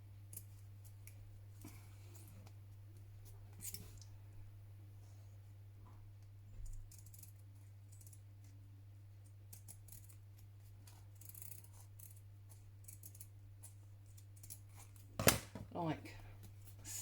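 Scissors snip through paper close by, soft and quiet over a steady low hum, with a single sharper snip near the end.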